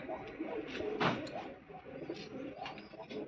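Pigeons coo close by, a cluster of soft throaty rolling calls repeating over a few seconds, with faint speech in the background.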